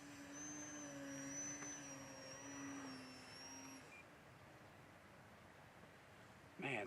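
An RC model aircraft motor at full throttle gives a faint, steady high whine for about four seconds, then fades out, leaving quiet background noise and a brief bump at the very end.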